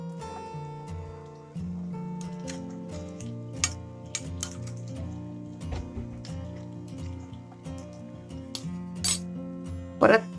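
A spoon clinks and scrapes against a pan while kachori fry in oil and get turned over, with light metallic taps over a steady sizzle and background tones, ending in a sharper clatter near the close.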